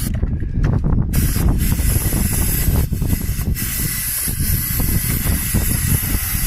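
Cleaner sprayed into the idle air opening of a car throttle body gives a close, steady hiss that runs almost unbroken, with a brief pause near the start.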